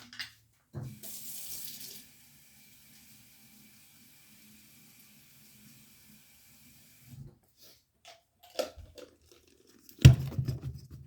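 A water tap runs in a short burst of about a second to water seed-starting soil for pepper seeds, followed by quiet and a few handling clatters and knocks.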